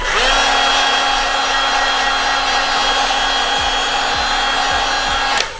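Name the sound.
heat gun blowing hot air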